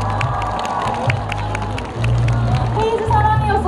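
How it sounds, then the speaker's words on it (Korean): A crowd at a Dongguk University festival concert cheers and shouts with scattered clapping, loud and continuous, with voices mixed in throughout. "박수 한 번만 주세요"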